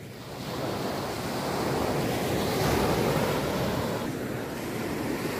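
Sea waves washing onto a beach, a continuous rushing surf roar with wind buffeting the microphone, steady and fairly loud with no voices.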